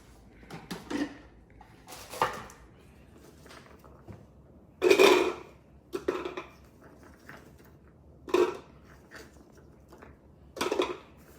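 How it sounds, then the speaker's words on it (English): A knife chops pre-cut carrots into smaller pieces on a cutting board, giving about seven sharp, irregular knocks spaced across the stretch, close and fairly loud, with no talking. "Now I'm going to chop it up."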